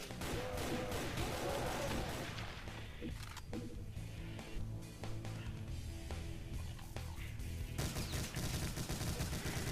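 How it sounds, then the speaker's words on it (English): Rapid minigun fire in the Doom video game, mixed with crashing impacts and explosions, dense and continuous through the clip with brief lulls. "the minigun is probably the best way for you to just decimate enemies"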